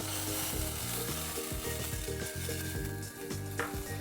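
Coffee hits a hot pan of reduced stock and sizzles continuously, a close, steady frying hiss with a soft stirring texture, heard alone without speech.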